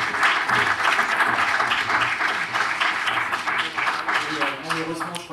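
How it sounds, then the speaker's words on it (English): A seminar audience applauds with a sustained, dense wash of clapping from many hands, steady and fairly loud throughout, tapering slightly near the end. "I would like you to give them a warm round of applause"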